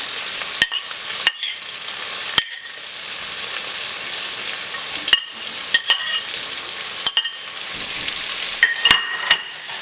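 Garlic, peppers and onions frying in butter for fritters give a steady close sizzle, broken by sharp clinks and scrapes of a utensil stirring in the pan.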